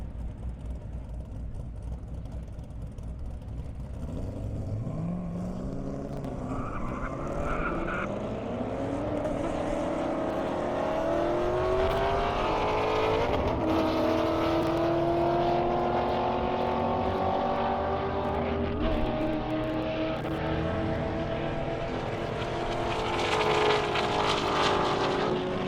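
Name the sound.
race cars speeding on an airstrip, Corvette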